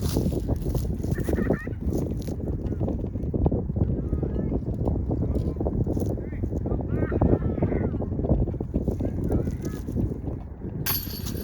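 Heavy wind buffets a disc golf course outdoors, a dense, continuous low roar and rumble of gusts with no break across the stretch, and a brief louder burst near the end.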